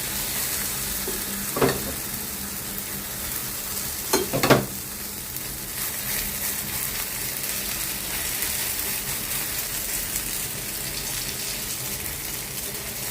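Flat dough cake frying in ghee or oil, with a steady broadband sizzle running throughout and two brief louder bursts of spatula or stirring noise early on, close and fairly quiet.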